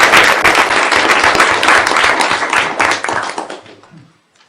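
A committee meeting room breaks into a round of applause, loud, close hand clapping from a small group that holds strongly for about three seconds, then thins out and fades to silence.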